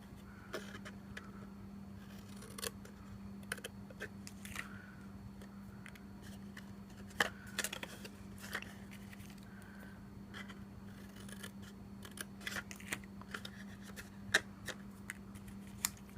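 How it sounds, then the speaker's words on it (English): Scissors trim scrapbook paper for a mini purse, making a scattered series of quick, crisp snips and light paper rustles over a low steady hum, close and fairly quiet, with nobody speaking. "And then we'll trim these to fit."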